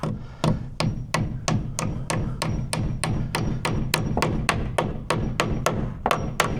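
Hammer driving nails into wood lap siding, heard as a steady run of about eighteen sharp, evenly spaced blows, loud and close, over a low background rumble.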